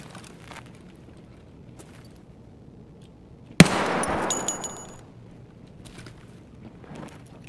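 Gunfire in Escape From Tarkov on the Factory map: one sharp, loud shot opens a rapid burst of automatic fire that rings and echoes for about a second before fading into quiet background noise.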